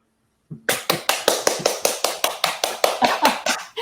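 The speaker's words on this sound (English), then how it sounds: "I can hear the applause." Steady, evenly spaced claps from what sounds like a single pair of hands, close and loud, during an online award ceremony, about fifteen sharp claps in a row with no talking.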